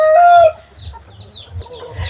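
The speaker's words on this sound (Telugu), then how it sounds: "ఇది వచ్చేసి సంవత్సరం వయసు కోడి" A one-year-old Kaki breed fighting rooster on a farm in Machilipatnam gives a short, loud crow-like call up close, followed by softer low clucking and shuffling.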